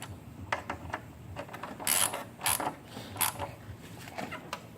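A ratchet drives 10 mm bolts on the front disc brake of a GY6 scooter, giving close, brisk bursts of clicking pawl strokes separated by short pauses.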